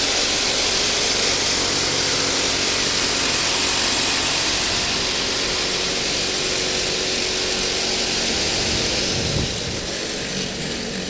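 An automatic gas water heater burns after ignition, giving a steady, loud, broadband roar with a high hiss that holds evenly throughout.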